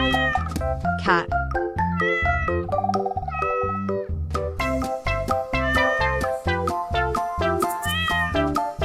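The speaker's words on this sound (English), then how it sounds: "Cat." A cat meows a few times over bright, continuous children's music that stays loud throughout.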